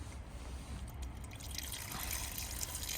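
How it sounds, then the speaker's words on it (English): Wastewater drains out of the tank underneath a 2025 Auto-Trail Expedition 67 campervan, a soft continuous trickle and splash that grows slightly fuller toward the end, fairly quiet and with no voices. "You'll see that the water's draining out of the wastewater tank."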